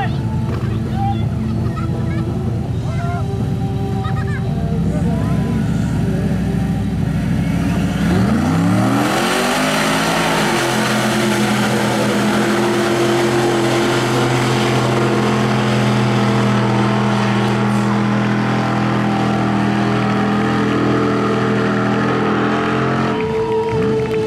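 Truck engine in a drag racing rig revving hard at the start line, rising in pitch around the middle then settling into a loud sustained roar, with crowd noise and a voice audible underneath.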